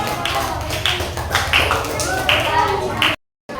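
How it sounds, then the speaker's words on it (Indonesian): Classroom applause for a student group, steady clapping from children close by with chatter mixed in throughout, ending in a brief cutoff. "tepuk tangan untuk kelompok 2"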